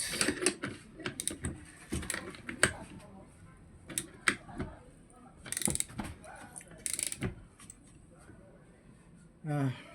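A bolt being tightened on a motorcycle clutch housing, close ratcheting clicks and metallic taps in irregular bursts, with a person talking over the work.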